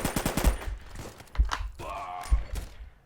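Gunfire in a shooting video game is aimed at the player, a rapid rattling burst followed by several separate close shots and thuds, with no talking.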